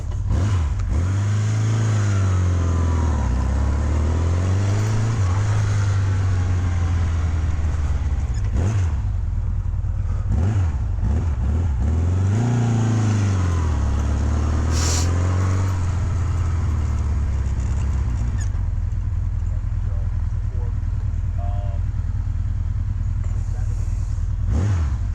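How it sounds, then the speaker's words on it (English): A 1980 Honda CB900 motorcycle with 4,000 original miles rides by, its exhaust note rising and falling loudly through repeated gear changes and throttle swells over a steady engine drone. "And listen to the exhaust note on this thing. Sounds awesome."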